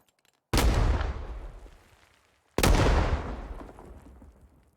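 Two grenade explosions from the Vietnam War video game Rising Storm 2: Vietnam, each a sudden loud boom with a long decaying rumble, about two seconds apart, with no talk.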